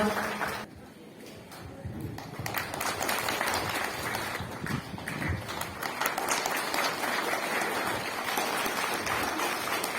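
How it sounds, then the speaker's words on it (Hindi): A crowd at an outdoor International Labour Day celebration on a ground in Itanagar keeps up a dense, steady round of applause that rises and falls over about ten seconds, with faint voices mixed in. "जोरदार से तालियां।"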